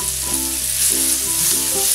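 Cooked beans tipped into hot oil with spice powders for a masala beans fry, sizzling steadily at close range with a few stirring scrapes, no voices.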